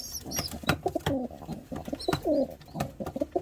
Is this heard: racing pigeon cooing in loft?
yes